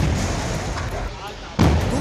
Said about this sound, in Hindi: एक के बाद एक करीब 18 सिलेंडर्स में ब्लास्ट हुआ